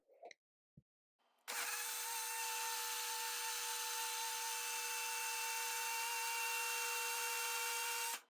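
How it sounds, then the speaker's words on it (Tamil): A blender grinds a green smoothie of spinach, apple and dates after a few quiet clicks, its motor starting abruptly into a loud, steady high whine that holds for several seconds before cutting off. "இதை இப்ப நல்லா அரைச்சு எடுத்துக்கலாம்."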